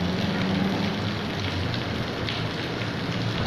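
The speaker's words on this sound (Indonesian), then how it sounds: "hujan masih terus turun di Kota Lahat" Steady heavy rain falling over flooded streets in the town of Lahat, a dense continuous hiss close by with no voices.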